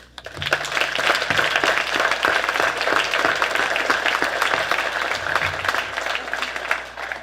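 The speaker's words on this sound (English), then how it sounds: "Please join with me in a special round of applause for Kelly Twombly and Amy Lackey" An audience at a college athletic hall of fame event applauds two organizers, steady, full clapping that holds at an even level throughout before easing slightly at the end.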